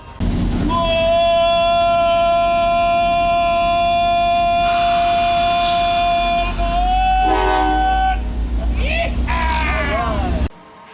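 A train pulls up with long sustained horn-like tones and a low rumbling drone, loud and steady, the pitch shifting near the end before an abrupt stop.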